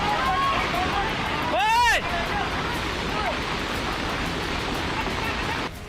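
Rushing flood water in the Raksiya drain in Haldwani during torrential rain, a steady loud wash of water with a brief tonal whine and background voices.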